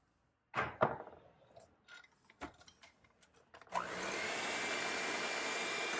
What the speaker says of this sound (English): Now it's time to gradually add in the flour using the electric mixer.